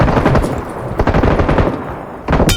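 Rapid automatic gunfire from a PUBG Mobile match fills the whole stretch, dense overlapping bursts of loud shots with a brief lull near the end before another burst.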